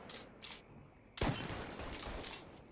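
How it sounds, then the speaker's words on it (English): Gunfire in the video game Mafia 3: a few sharp shots at first, then a loud crack followed by a dense, rattling burst of firing that continues to the end. "Oh, now there's somebody else shooting me."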